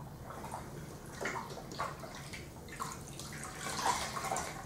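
Tap water runs steadily at a bathroom sink while facial product is rinsed off, a soft continuous splashing with small gurgles, fairly faint and with no voices.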